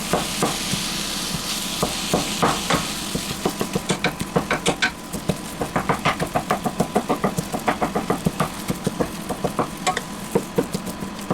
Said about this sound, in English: I'm just going to brown the beef